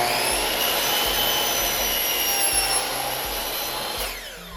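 A power tool whines steadily at close range while cutting engineered hardwood flooring, a loud high-pitched motor drone that spins down toward the end.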